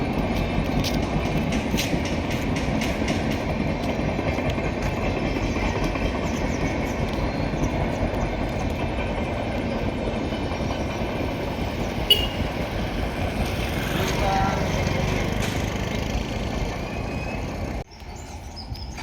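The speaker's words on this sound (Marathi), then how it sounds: "ही कोकण रेल्वे आहे" A Konkan Railway train passes through Waghde village with a continuous rumble and clattering of wheels on track, steady for nearly twenty seconds with occasional squeals before cutting off near the end.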